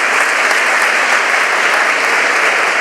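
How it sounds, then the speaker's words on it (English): Loud, dense applause from guests at a Mothers of Alumni luncheon thanking the hosts, close and continuous for a few seconds. "join me in giving them a round of applause"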